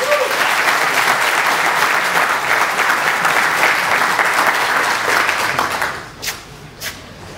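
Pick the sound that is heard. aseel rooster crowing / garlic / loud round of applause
loud round of applause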